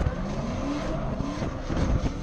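Mustangs drifting in tandem with the e-brake pulled, a continuous loud rumble of engine and roaring tires with faint wavering squeal tones, close and uninterrupted.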